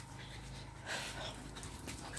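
A dog pants close by in quick, steady breaths against a low background hum.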